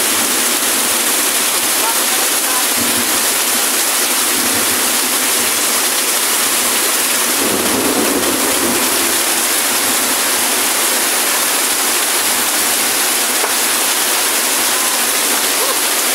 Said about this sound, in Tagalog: Ito na pinakamalakas na ulan.